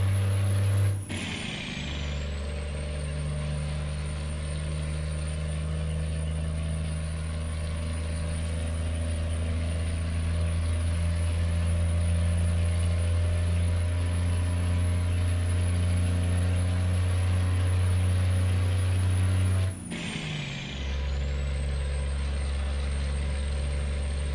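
In American Truck Simulator, a Freightliner FLD hauling grain drones with a loud, steady low engine note, its pitch dropping sharply twice as the transmission downshifts, with a high whine holding throughout.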